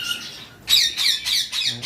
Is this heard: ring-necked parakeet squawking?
yes